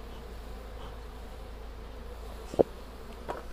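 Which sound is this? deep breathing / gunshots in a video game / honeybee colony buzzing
honeybee colony buzzing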